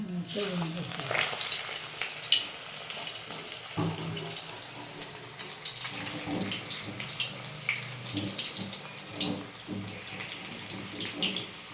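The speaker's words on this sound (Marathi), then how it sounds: "आता मस्त तेल तापले आता वड्या सोडून घ्यायच्या" Alu vadi pieces fry in hot oil, giving a loud, continuous bubbling sizzle with occasional sharper crackles and scraping spikes as they are lowered in and moved about.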